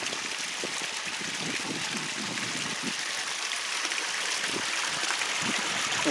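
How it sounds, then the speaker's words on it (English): Small clear creek in the North Absaroka Wilderness, a steady close rush and trickle of running water that fills the whole stretch with no voices over it. "Nice little creek."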